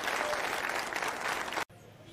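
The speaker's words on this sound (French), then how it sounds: "Applaudissez!" Applause from an audience at a judicial-themed gathering, dense and steady for about a second and a half before cutting off abruptly, leaving quiet room tone.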